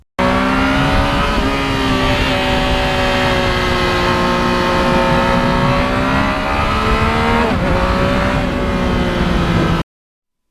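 A Yamaha MT-09 motorcycle with a quick shifter rides and accelerates up close, its engine droning steadily with a brief dip and a gear change near the end, then cutting off.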